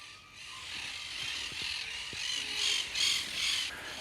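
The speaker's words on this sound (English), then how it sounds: "The sounds you just heard and the things you just saw were parakeets" Parakeets calling in an Argentine forest, a steady chorus of bright, rasping chatter rising and falling in bursts, fairly distant with overlapping voices and no talk.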